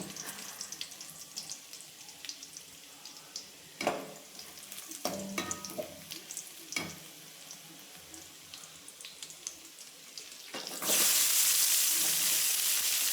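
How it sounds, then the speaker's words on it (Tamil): Onions sauté in a pan after garlic browns for a vegetable biryani, with quiet sizzling broken by sharp clatters and stirring knocks, then a sudden loud rush of hissing near the end. "பூண்டு நல்லா ப்ரௌன் கலரில் வந்துட்டு வெங்காயம் சேர்த்து நல்லா வதக்கிக்கணும்"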